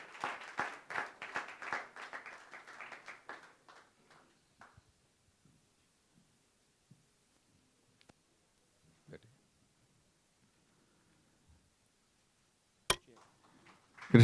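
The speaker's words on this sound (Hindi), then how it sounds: "जोरदार तालियां होनी चाहिए।" Audience applause at a film trailer launch event in India: a dense burst of many hands clapping for the first few seconds, then thinning out and fading to near silence with a few scattered clicks.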